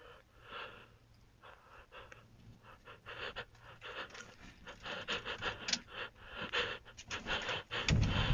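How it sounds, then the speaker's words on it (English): Heavy, ragged panting of a person holding the camera in a horror web series, close and steady with rising intensity, rustling and scraping faintly underneath, no talking. "everything goes quiet except for the heavy breathing of the person filming"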